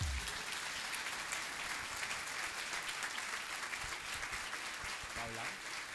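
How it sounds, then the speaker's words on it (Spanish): A church congregation at a youth gathering applauds for Jesus, a full, steady wash of clapping through the whole stretch, with a brief voice surfacing near the end. "Damos un aplauso a Jesús."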